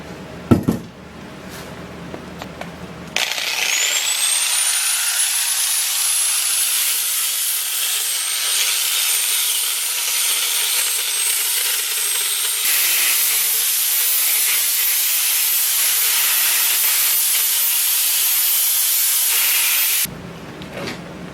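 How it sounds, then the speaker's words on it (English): An angle grinder grinds down a cast iron pan, a harsh, steady high-pitched whine and hiss that starts abruptly after a few seconds of handling noises, runs loud and continuous for about seventeen seconds, then cuts off. "I'm gonna grind it down and season it"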